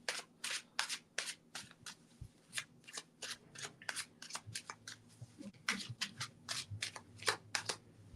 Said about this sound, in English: Let me just take one card from the Oz deck.